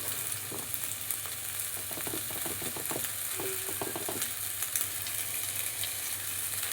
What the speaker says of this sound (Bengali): ডাটাটা আর আলুটা ভালো করে কষাতে হবে